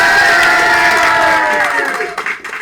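Studio audience at a live comedy improv show breaking into loud applause mixed with cheers and whoops, sustained at first and then thinning and tapering off toward the end.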